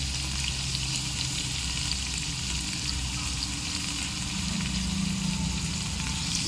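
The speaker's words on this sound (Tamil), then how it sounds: "கொஞ்சம் ஓரளவுக்கு அந்த பொன்னிறம் வர அளவுக்கு நம்ம வெங்காயத்தை நல்லா வதக்கிக்கணும்" Onions frying to golden brown in a pan over a wood-fired stove for chicken biryani, a steady broadband sizzle with a low rumble underneath, continuous and fairly close throughout.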